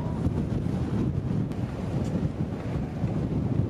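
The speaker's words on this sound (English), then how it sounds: "Can you tell it's windy up here?" Strong wind buffets the microphone on a coastal clifftop at Cape Spear, Newfoundland, a steady, dense roar with no speech and no breaks.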